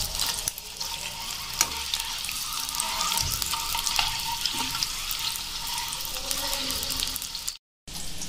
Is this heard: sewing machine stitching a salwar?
no